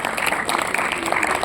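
Students at a school math quiz break into applause for a correct team, dense continuous clapping from a crowd filling the room throughout.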